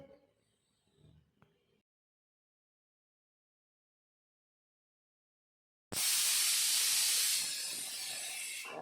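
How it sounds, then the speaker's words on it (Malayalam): After a few seconds of near silence, a loud, steady sizzling hiss erupts suddenly and keeps going as ground roasted coconut is poured into a hot pan. "വറുത്തരച്ച തേങ്ങ ഒക്കെ ഒഴിച്ചു കൊടുക്കട്ടെ"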